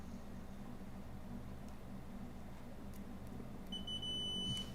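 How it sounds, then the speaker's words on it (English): A multimeter in continuity mode gives a steady high electronic beep near the end, close and clear above a low hum of room noise, after a few faint clicks from the probes. "Yeah, definitely got a continuity beep there."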